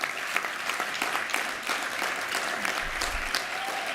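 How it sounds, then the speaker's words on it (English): An audience at the National Action Network convention gives Reverend Sharpton a warm round of applause, a steady stream of many hands clapping at a constant level with a faint crowd murmur underneath. "ask you to give him a big, warm round of applause"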